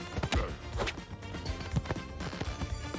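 A horse in the Party Animals video game trots with rapid, loud hollow clip-clop hoofbeats in an uneven rhythm, close and busy, mixed with game noise.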